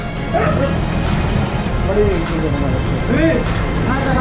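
A dog at a classic Volkswagen custom shop in Calasiao, Pangasinan gives short yips and whimpering barks at intervals, close by, while people talk over steady background noise.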